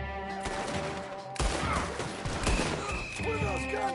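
Gunfire from the video game Red Dead Redemption 2, a dense burst of overlapping shots and crashes across a few seconds, loud, with game music and voices underneath.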